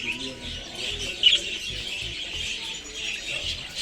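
Small pet birds in a bird shop chirp and tweet in quick, high, repeated calls, fairly close, with soft background noise and faint voices.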